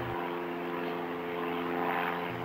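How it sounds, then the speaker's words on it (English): A small propeller aeroplane drones steadily with an even buzzing hum from its engine, holding a level, continuous tone across the whole moment without voices. "So the little aeroplane set off to the big city."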